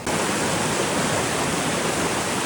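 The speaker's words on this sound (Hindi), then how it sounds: "बहुत हैवी वाटर क्रॉसिंग है, पानी आपके ना थाइस से ऊपर तक आएगा और फ्लो बहुत ज़्यादा होगा" Fast-flowing mountain stream at a heavy water crossing near Dudipatsar Lake in Kaghan, a steady, loud, close rush of water with no break and no voices.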